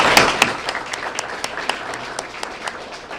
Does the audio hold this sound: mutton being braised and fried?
no